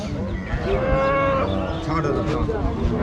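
A cow at the Rajshahi city cattle market gives one long, loud, drawn-out moo that fills the moment, with market crowd noise beneath it.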